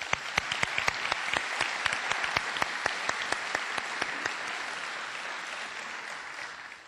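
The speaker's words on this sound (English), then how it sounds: "Let's give them a round of applause." An indoor audience at a community event applauds for several seconds, with dense, even clapping that slowly thins toward the end.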